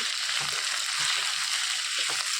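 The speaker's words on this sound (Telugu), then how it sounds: "ఉల్లిపాయలు ఈ విధంగా వేగిపోయిన తర్వాత దోసకాయ ముక్కలు వేసేసుకోవాలి ఒకసారి కలిపేసుకుని" Cucumber pieces fry with onions and curry leaves in a pan for a cucumber and makhana curry, giving a steady, close sizzle with soft stirring scrapes.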